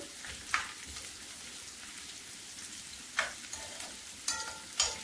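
Onion and garlic frying in a pan, a soft continuous sizzle with a few sharper crackles and stirring scrapes, near and fairly quiet, no voices.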